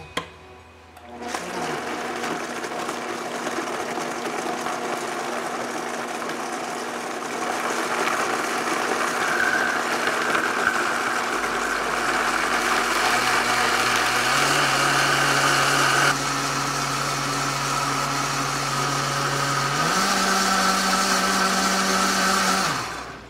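A blender whizzes granola bar ingredients with vanilla, a loud steady motor whine that starts suddenly, runs for over twenty seconds with shifts in pitch as the mixture thickens, then cuts off.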